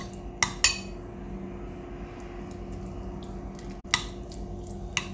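A spoon mixes honey in a bowl, giving a few sharp metallic clinks and taps against the rim, spaced irregularly over a quiet background, close and clear, with no talking.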